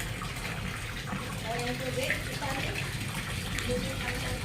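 Water gushes from the drain of a small fish pond while catfish are being caught, a steady, full rushing flow that runs without pause through the whole stretch, with faint voices in the background.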